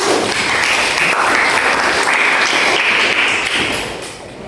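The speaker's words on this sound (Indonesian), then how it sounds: "Tepuk tangan untuk kalian semua." Classroom students applaud after a maths lesson, loud, dense clapping that holds steady for several seconds, then tapers off at the end.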